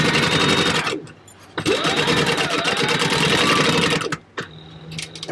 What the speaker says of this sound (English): We're going to sew across at 1/4 inch